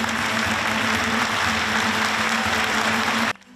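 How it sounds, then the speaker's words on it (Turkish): A theater audience gives a standing ovation at the end of a play, dense sustained clapping filling the hall evenly until it cuts off abruptly near the end. "izleyiciler oyuncuların performansını ayakta alkışladı"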